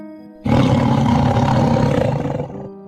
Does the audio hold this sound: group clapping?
no